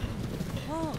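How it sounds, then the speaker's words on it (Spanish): A black horse gallops in The Legend of Zelda: Breath of the Wild, its rapid hoofbeats thudding close and loud in a quick rhythm, with a brief voice-like tone rising over them. "Voy a coger este caballo negro de aquí."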